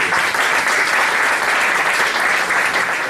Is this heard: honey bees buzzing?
no